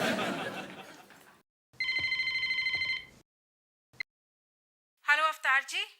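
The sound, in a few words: telephone ringing during a phone call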